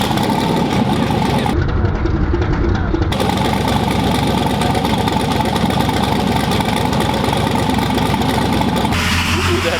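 A Chevrolet C10 truck engine runs in the background, a loud continuous idle rumble with slight revving swells, heard alone without talk throughout.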